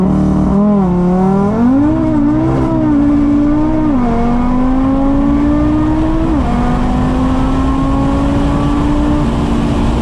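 Audi RS3 with billet engine mounts launching with traction control off, a loud close engine roar climbing in pitch through shifts while the tires spin, steady and continuous with no voices.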